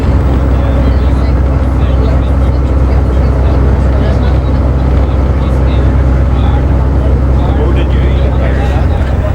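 A 1963 Ulsterbus vintage bus engine runs with a loud, steady, deep rumble that fills the whole stretch without letting up.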